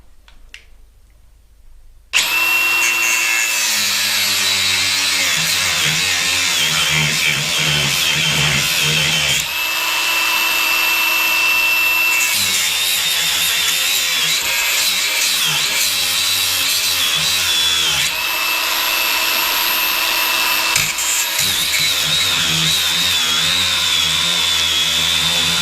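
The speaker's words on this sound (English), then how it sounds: "As I say, this is seized, so I brought my grinder. So the only way to do this is" An angle grinder cuts through a seized front suspension arm on a mobility scooter, starting after a brief quiet moment and then whining loudly and steadily with shifting pitch as the disc bites into the metal, with no talk over it.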